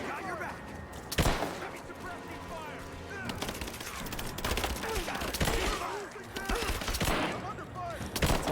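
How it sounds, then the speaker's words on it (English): Gunfire in Rise of the Tomb Raider, a few sharp shots and bursts spread over several seconds amid a busy game soundscape with ambient effects and rustling. "We just shoot him in the face."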